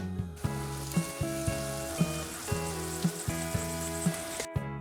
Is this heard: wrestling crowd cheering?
no